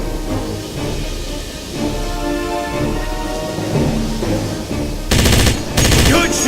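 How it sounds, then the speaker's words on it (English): Game gunfire in Wolfenstein (2009) with an MG-42 machine gun in a train station battle, heard as a steady rumble of battle noise that builds into loud, dense bursts of automatic fire toward the end. "DJ, they need you defending us with the MG-42."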